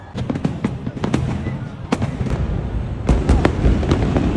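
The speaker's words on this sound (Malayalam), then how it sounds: "അങ്ങനെ സംഭവം തുടങ്ങി ലൈറ്റും വെടിയും പുകയുമായി ഒരു 10 മിനിറ്റ്." Sydney New Year fireworks burst in quick irregular bangs and crackles, some sharp and loud, others softer, over a rumbling crowd murmur outdoors.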